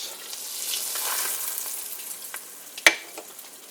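Eggs frying in a pan give a soft, close sizzle, with one sharp clack partway through and light crackles afterward.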